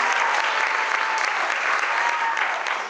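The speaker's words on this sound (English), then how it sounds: "I want to give Trey a round of applause" A crowd at a Techstars startup demo day claps steadily and warmly, a continuous wash of applause that stays even and fairly close for the whole few seconds.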